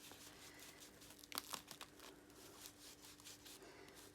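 Adhesive tape handled during art journaling, soft close crinkles and rustles with a brief louder burst of crackling midway, quiet against a faint steady hum.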